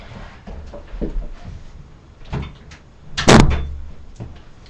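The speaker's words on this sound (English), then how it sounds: "Let me just close this door." An indoor door pulled shut ends in a single loud thump after some quieter shuffling and handling noises in a small room.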